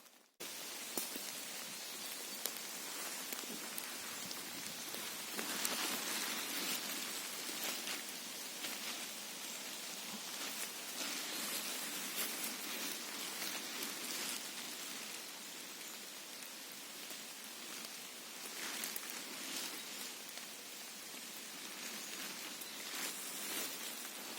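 Steady rain falling and pattering on a surface in a forest during mushroom picking, a continuous dense hiss that holds at an even level throughout, with no voices.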